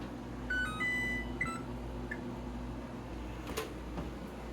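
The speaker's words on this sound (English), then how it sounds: "Okay, the timer is going off." Kitchen oven timer going off after baking German fluffy pancakes, a few short high electronic beeps over a low steady room hum.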